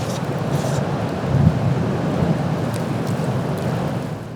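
Storm Ciaran's violent gusts of up to 157 km/h at Carteret on the French coast roar against the microphone, a heavy continuous rumble of wind and rough sea swelling briefly before easing.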